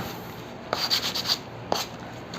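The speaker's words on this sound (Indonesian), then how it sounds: "Tapi kita agak sedikit amplas-amplas dulu" Hand sanding of wood fibres with sandpaper after a jigsaw cut, heard as a few short, soft rubbing strokes close by with a distinct scrape near the start and another near the end, over a quiet background.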